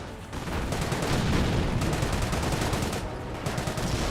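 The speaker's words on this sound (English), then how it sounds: "Great mortar hits there." Mortar shells striking in a Company of Heroes battle, a dense crackling barrage of blasts and gunfire with no gaps, loud and close throughout.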